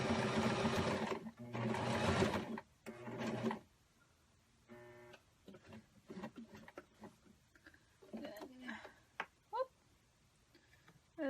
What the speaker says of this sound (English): and then you want to do some back stitching